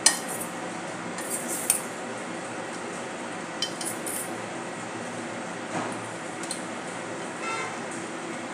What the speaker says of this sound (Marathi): सर्व मसाले हे कोट होतील अशा प्रकारे आपल्याला मिक्स करायचे आहे.